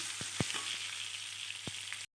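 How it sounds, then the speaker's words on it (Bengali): Potato pieces frying with salt and turmeric in hot oil, a steady close hiss broken by a few soft stirring knocks, then cutting off abruptly. "অল্প নুন আর হলুদ, দিয়ে ভালোভাবে নেড়ে চেড়ে আলুটা ভেজে নেব।"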